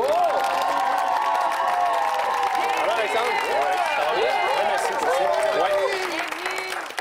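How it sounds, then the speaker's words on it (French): A studio audience bursts into loud applause and cheering with whoops and shouts, a dense, sustained roar of clapping and voices that stays strong throughout and eases slightly at the very end. "Que ce soit une explosion d'applaudissements"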